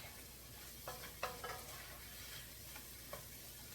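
Eggs and onions fry over high heat in a pan for fried rice, a faint steady sizzle with a few soft spatula taps and scrapes.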